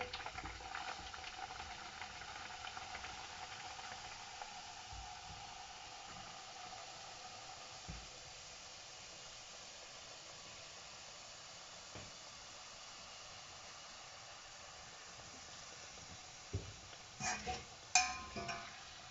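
Papdi dough fries in moderately hot oil, giving a faint, steady hiss and gentle bubbling that continues throughout, with a few light clinks near the end.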